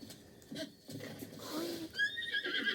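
A horse in The Legend of Zelda: Breath of the Wild whinnies a couple of times over clip-clopping and game background noise, with a higher, shrill neigh rising near the end.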